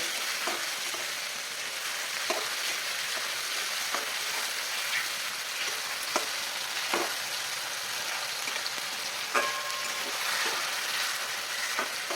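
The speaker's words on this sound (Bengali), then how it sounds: "এবার এটাকে মাশরুমগুলোকে ভালো করে ভেজে নেব।" Mushrooms fry steadily in a pan for a mushroom-and-pea dish, a continuous close sizzle broken by occasional soft clicks of stirring, with no voices.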